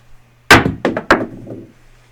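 Craps dice thrown on a casino table, three sharp clattering hits in quick succession as they tumble and bounce, close and loud with no talk.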